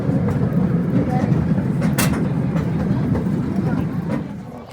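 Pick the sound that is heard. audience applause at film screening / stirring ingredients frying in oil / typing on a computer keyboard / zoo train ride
zoo train ride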